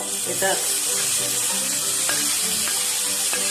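Cooked beef being sautéed in fried masala in a Kerala-style pan, giving a steady close sizzle with a few clinks of stirring.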